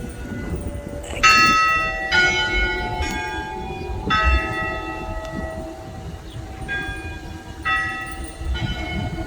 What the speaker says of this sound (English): You hear the bells? The bells are going.